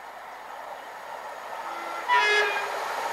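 Electric Class 380 train unit 380-112, bound for Ardrossan Harbour, sounds its horn while passing Hillington East station: a short, loud blast rising over the steady rumble of the approaching train, with no voices.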